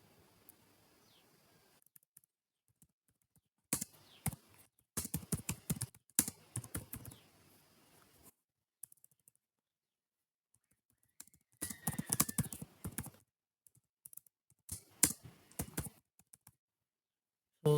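Someone types C# code on a computer keyboard in quick bursts of soft key clicks separated by silent pauses, close but quiet, with no talk.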